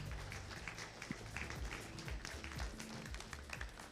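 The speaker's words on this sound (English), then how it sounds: "let's just have another round of applause for everybody on stage" Audience applause for the people on stage at a Devcon VI workshop in Bogotá: dense, steady clapping from a crowd, with some low rumble and murmur mixed in, lasting the whole stretch at moderate volume.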